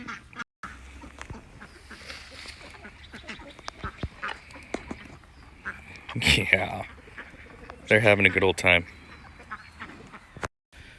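Ducks and chickens peck at an apple branch on a livestock homestead, with soft rustling and scattered clucks before loud bursts of nearby quacking, while a person speaks briefly.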